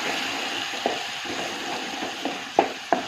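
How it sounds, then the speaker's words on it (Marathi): Green chili and garlic paste is stirred into spinach frying in a pan, giving a soft steady sizzle with a few sharp scraping clicks of the spoon near the end. "आता आपल्याला हिरवी मिरची लसणाचं वाटण टाकायचं आहे हलवून घेणार आहे"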